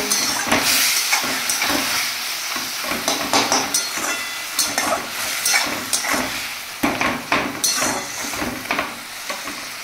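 Hot chilies frying in a pan and stirred, with loud sizzling broken by repeated scraping and clattering strokes of the spoon in an uneven rhythm.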